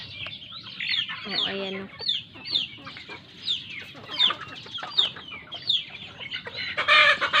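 Chicks and grown chickens in their backyard pen, with steady high chirping and repeated clucks close to the microphone, while a voice speaks briefly.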